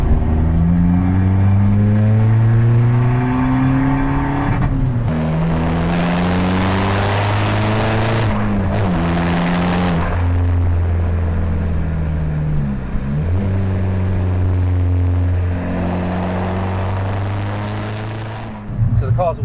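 A Skoda Fabia VRS diesel hatchback on aftermarket coilover suspension accelerating, its engine note climbing through gears with drops at each shift, a steady loud drone heard from inside the car.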